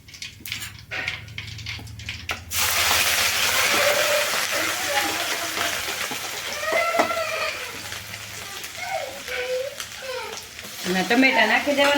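Chickpea and potato curry tempered in hot oil, quiet at first, then a sudden loud sizzle that keeps frying steadily with stirring clatter while someone talks over it.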